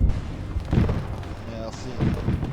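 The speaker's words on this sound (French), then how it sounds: "Grenade, attention!" Grenade blasts in the military video game ArmA 3, two low muffled booms spaced a second or so apart, mixed with people talking over them.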